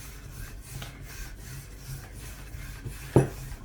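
A rolling pin works stacked sheets of phyllo dough, making soft rhythmic rubbing and rasping strokes close up, ending with a brief sharp knock.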